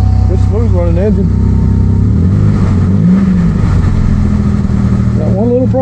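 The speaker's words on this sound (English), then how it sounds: "Good smooth running engine." A 3400 car engine runs steadily and smoothly at close range, with a low continuous drone and slight rising revs, while people talk over it throughout.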